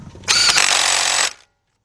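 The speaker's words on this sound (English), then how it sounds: "I'm going to grab my impact, a cordless impact, 14 millimeter. I'm going to go ahead and tighten that up." Cordless impact wrench tightening a 14 mm camshaft bolt on a 1991 Toyota Corolla 1.6, one loud close burst of about a second that cuts off sharply into silence.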